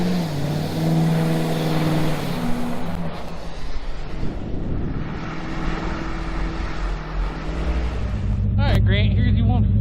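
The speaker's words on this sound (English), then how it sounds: "what better way to celebrate than with a snowpack burnout" Car burnout on snowpack: a loud, sustained engine roar with revving swells and wheel spin across the whole stretch, people talking over it, and a sharper rev surge near the end.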